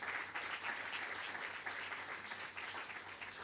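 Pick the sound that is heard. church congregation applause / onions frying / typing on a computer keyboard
church congregation applause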